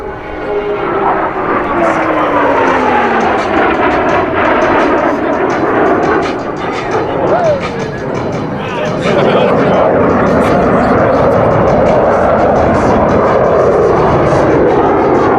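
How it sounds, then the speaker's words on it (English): Airshow jets roar past at high speed in opposing horizontal rolls, a loud sustained broadband jet rumble with sweeping pitch shifts as they close and cross, continuous throughout with no quiet gaps. "Crossing center point, they will complete 2 consecutive rolls, totaling 720 degrees, with a closure rate of over 800 miles per hour."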